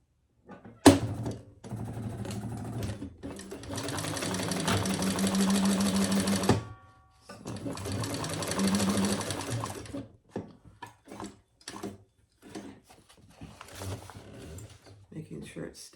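A sewing machine stitches around a leather crossbody bag in two long steady runs of motor whir and needle chatter, followed by scattered clicks and handling noises; a voice speaks intermittently nearby.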